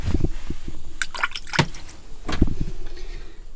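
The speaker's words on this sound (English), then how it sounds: "So what happened is this bag has pushed the tap open." Water spills and splashes from a tap on a sailing boat that a bag has pushed open, irregular drips and gushes close by with no talking.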